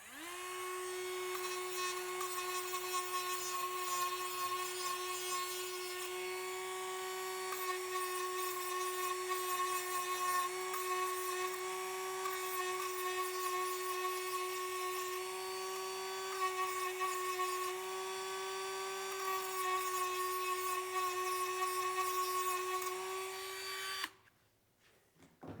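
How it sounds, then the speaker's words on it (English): A Dremel rotary tool grinds an edge off a part, a loud steady high-pitched whine held for about twenty-four seconds with slight load changes before it spins down. "take a file or a Dremel and kind of Dremel this little edge off right here"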